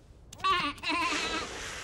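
A young lamb gives a loud, wavering bleat close up, breaking briefly before a longer quavering cry.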